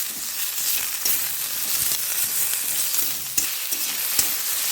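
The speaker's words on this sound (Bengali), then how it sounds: "এই টমেটো আমি একটু ভেজে নিচ্ছি।" Tomato pieces fry in a pan with a bright, continuous crackling sizzle, with occasional soft stirring knocks. It is close and moderately loud, with no voices.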